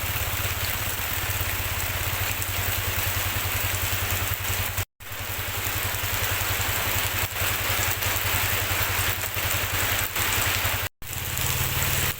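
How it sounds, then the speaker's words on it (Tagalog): A motorcycle engine idles steadily to warm up on a rainy night, its low even throb running continuously with brief cutouts, rain hiss mixed in. "Painitin muna natin yung motor bago natin gamitin"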